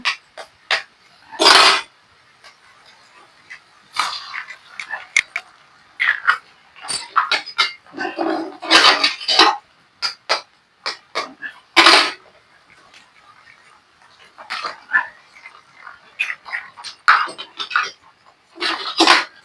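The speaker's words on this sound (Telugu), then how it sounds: "ఇప్పుడు మనం ఎగ్స్ పగలగొట్టేసుకుందాం చూస్తున్నారు కదా ఎగ్స్ పగల కొట్టేసుకోండి" Six eggs cracked into a bowl in a home kitchen: a series of sharp, separate taps and cracks at irregular intervals, each followed by brief clinks and drips, with quiet gaps between.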